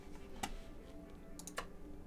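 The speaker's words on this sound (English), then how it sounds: "I'm just holding down Alt and clicking on it." Two sharp clicks, one early and one later, sound as an Alt key is held and a computer mouse is clicked, faint and close over a low background hum.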